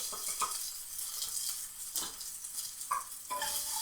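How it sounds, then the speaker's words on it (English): Peppers and onions sizzle in oil in a frying pan, a bright hiss with scattered crackles and a few stirring scrapes near the microphone. "I'm going to toss my peppers and onions back in."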